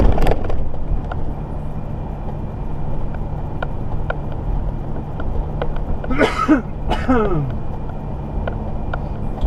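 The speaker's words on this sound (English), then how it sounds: "I've been coughing a lot today." A person coughs a few times close by over the steady rumble of a Ford F250 pickup engine running in the background.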